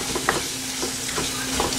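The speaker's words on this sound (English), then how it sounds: "So mix it nicely in a slow flame only." Egg puff stuffing being stirred in a pan over a slow flame, with soft scraping strokes and a low, steady sizzle underneath, close and moderately quiet, no talking.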